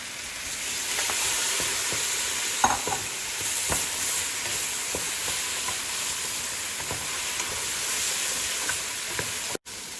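Meat for lubia polo frying and being stirred in a pan gives a steady, bright sizzle throughout, with occasional scraping knocks from the stirring and one sharp clack near the end.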